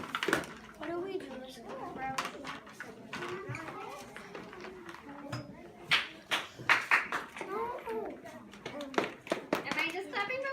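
Children clapping in a classroom, scattered sharp hand claps mixed with kids' chatter and shuffling, louder bursts in the second half.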